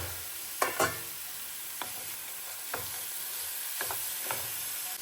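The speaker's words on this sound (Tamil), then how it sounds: "சேமியா சேர்த்திட்டு இப்போ எல்லாத்தையும் நல்லா கிளறி கொடுத்துடணும்" Semiya being stirred in a pan, a soft continuous sizzle with a few distinct scraping knocks of a spoon against the pan, close and quiet, no talking.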